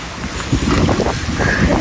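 Strong wind blowing across an open hilltop viewpoint near Mapro Gardens in Mahabaleshwar, a steady loud rush of gusty roar buffeting the microphone for about two seconds with no voices.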